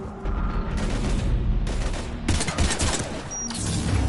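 Sustained bursts of video-game gunfire aimed at Husks in Mass Effect 3, loud and dense rapid shots with booming impacts filling the whole stretch, no speech over it.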